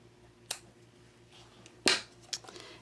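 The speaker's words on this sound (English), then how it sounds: "And then just cut off the linen thread" Scissors snip through linen thread while a gift box tag is finished: one quiet cut, then a louder crisp snip and a smaller one after, close and isolated with no talking.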